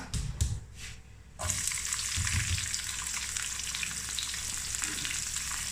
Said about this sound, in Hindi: प्याज को फ्राई करेंगे। प्याज भी हल्का सा फ्राई हो चुका है।